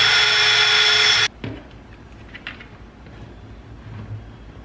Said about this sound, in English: I'll go ahead and just drill the hole directly in the center between these two for my wire to go inside the dash.